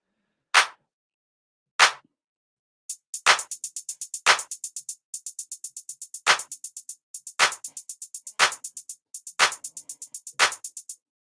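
Sharp drum machine claps land in a regular pattern over a fast, steady hi-hat rhythm, starting with a few isolated claps before the hats join in and run continuously to the end, with no one talking.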